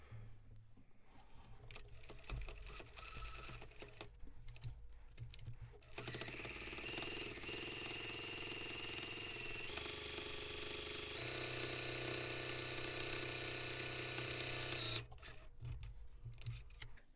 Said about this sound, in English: I'm just going to put that into my sewing machine, and I'm going to sew as close to the edge as I can manage